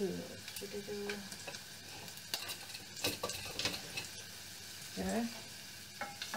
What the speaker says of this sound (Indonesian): we're going to saute until it becomes brown, but not too brown, otherwise it will be bitter